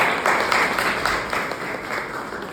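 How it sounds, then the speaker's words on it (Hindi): Steady applause from a crowd at a college event in India, a continuous, fairly loud clatter of many hands that eases slightly toward the end. "मैं चाहूँगा एक बार तालियों से उनका स्वागत करूँ"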